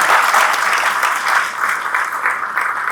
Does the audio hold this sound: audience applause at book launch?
yes